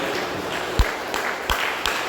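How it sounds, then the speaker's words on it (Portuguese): A church congregation claps joyfully during worship, a steady wash of applause with a few louder, sharper claps standing out near the front. "as palmas bem alegres"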